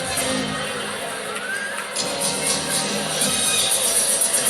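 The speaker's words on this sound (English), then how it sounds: "the crowd is calling for it" Crowd at a women's collegiate gymnastics meet, UC Davis vs Oregon State in Anchorage, cheering and shouting after a landed routine; a dense, steady roar of voices and whoops runs loud throughout.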